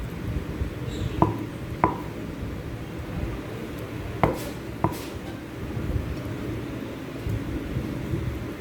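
A knife slices through a block of tofu on a cutting board while preparing pork liempo humba, giving a few sparse, sharp cuts that stand out against a low, steady kitchen background.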